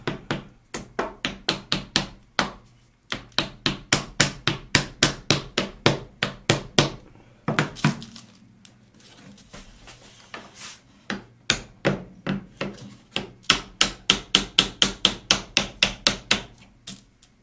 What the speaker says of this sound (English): Now I'm going to attempt to easily snug up the braid